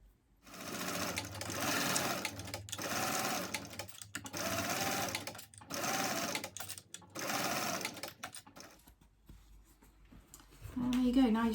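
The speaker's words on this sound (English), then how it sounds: "we're going to sew the top with a 3/8 of an inch seam allowance" A domestic sewing machine runs in several bursts, stitching the top seam of a fabric slip pocket for a mini backpack with a 3/8 inch seam allowance. The whirring is close and steady, broken by brief pauses between runs.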